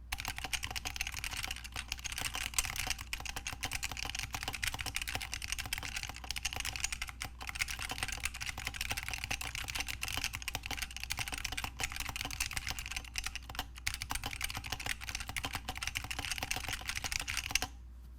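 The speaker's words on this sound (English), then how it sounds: "And then finally, here are the Matthias switches." Continuous fast typing on a keyboard fitted with bumper-free Matthias linear switches, dense overlapping keystrokes clattering steadily and close for the whole stretch with no talking.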